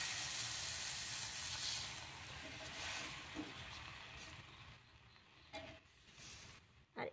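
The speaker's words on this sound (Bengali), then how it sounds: "তাওয়াটা গরম হয়ে গেছে, আমি 1 হাতা করে নিয়ে দিয়ে দিচ্ছি" Batter for soft chakli pitha, made with orange and semolina, sizzles on a hot oiled tawa, a broad hiss that is loud at first and then gradually fades, with a few soft scraping knocks near the end.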